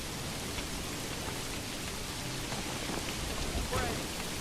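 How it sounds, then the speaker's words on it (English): Hail and rain patter onto wooden structures in the game Manor Lords, a steady dense hiss of fine taps with a few slightly louder impacts near the end, faint and even throughout. "Hear the hail tapping off the wood."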